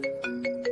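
A phone ringtone sounds in a short melodic pattern of repeated tonal beeps, close and clear, as a call goes unanswered.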